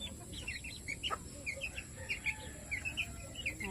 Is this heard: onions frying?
no